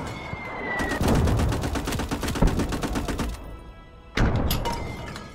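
Rapid bursts of automatic gunfire in a video game, a long sustained volley followed by a pause and then another loud burst, close and dominant with no talking over it.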